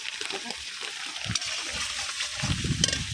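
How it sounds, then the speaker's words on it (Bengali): Spice paste sizzles and sputters in oil in a pan with irregular stirring scrapes, and a voice talks at a low level underneath. "এই যে মশলাটা আমি লাইরে ফেরা কষাই নিলাম, তেলটা বাইসা গেছে।"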